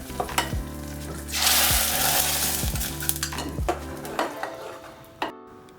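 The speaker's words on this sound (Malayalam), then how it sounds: "വറ്റൽമുളക് അരിഞ്ഞ് വെച്ചിരിക്കുന്നതും കറിവേപ്പില ഇതിലോട്ട് ഇടാം." Chopped dried red chilies and curry leaves hit hot oil in a Kerala cucumber curry, bursting into a loud close sizzle that fades over a few seconds, with clinks of a spoon against the pan and a steady low hum beneath.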